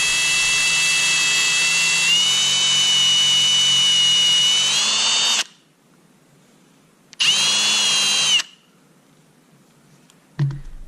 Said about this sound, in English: center the drill bit in what you think is the center of the cork, and then just drill down.